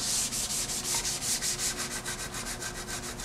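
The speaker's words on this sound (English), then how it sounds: "Dude, this primer sands so nice though." Sandpaper rubbed by hand over primer on a car body, a rapid run of close, loud, raspy back-and-forth strokes in a steady rhythm with no talking.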